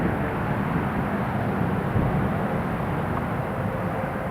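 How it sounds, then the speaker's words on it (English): A Jet2 airliner lines up on runway 25, giving a steady, broadband engine roar that holds at an even level without any distinct peaks. "Jet 2 just lining up now, runway 25."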